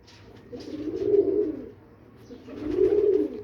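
A pigeon coos in two rounded, throaty phrases, close and fairly clear, separated by a short pause, with no talking.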